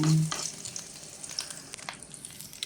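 Garlic frying in a pan for sweet and sour chicken gives a close, crackling sizzle with small popping bursts after a brief louder opening stir, and no talking.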